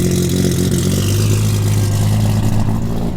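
Straight-piped, big-turbo Mk4 Toyota Supra engine running loud and close, a steady deep drone with slight rises in revs and no voices over it.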